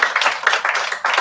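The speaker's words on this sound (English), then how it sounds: "Please clap for yourself." An audience fills a hall with applause, a steady patter of many hands clapping in close, bright bursts that swell and dip across the short stretch, with no talk over it.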